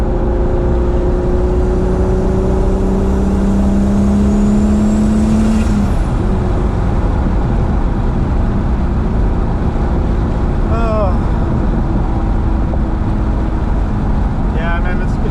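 Turbocharged VR6T-swapped B5 Audi A4 driving along, a steady low engine drone with a rising then falling pitch early on, loud and close throughout, with people talking briefly over it.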